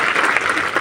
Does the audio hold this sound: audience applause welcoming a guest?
yes